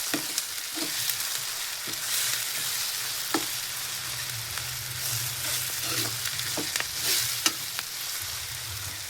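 Raw mango and onions frying in oil in a pan for mango chitranna, a continuous close sizzle punctuated by repeated spatula scrapes and knocks against the pan.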